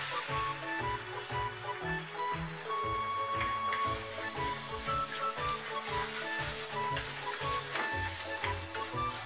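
Eggs stir-frying in vegetable oil in a pan, made for a shrimp and garlic chive omelette stir-fry: a steady loud sizzle with rhythmic scraping of the spatula stirring throughout, no talking.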